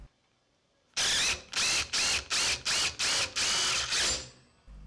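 An impact driver drives a quarter-inch bolt with a special bit: loud, close hammering in about eight rapid bursts separated by brief pauses, one longer burst near the end, then silence.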